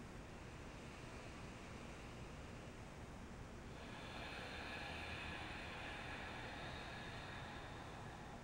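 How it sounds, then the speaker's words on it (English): A long, ocean-like yoga breath pushed out through the nose with a constricted throat makes a steady, close hiss that grows slightly brighter partway through. "slightly constrict the throat as you push the air out of your nose"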